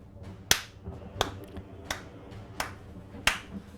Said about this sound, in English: slow clap for that.